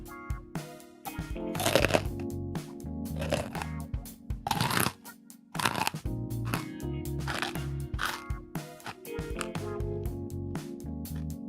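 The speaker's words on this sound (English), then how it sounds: "you'll get a little bit of the crunching" Crunchy shiitake mushroom snacks being bitten and chewed near a microphone, a series of sharp dry crunches in irregular bursts with brief pauses, set against faint background music.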